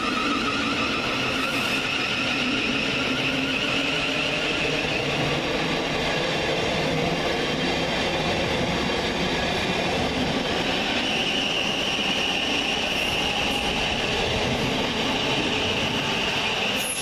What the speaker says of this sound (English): Next train out of the station is 700-152, working the 1057 Govia Thameslink service from Bedford to Brighton.